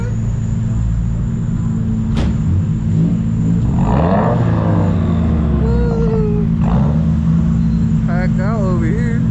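A Subaru engine rumbles low and steady at a late-night car meet, with crowd chatter and other vehicles around it.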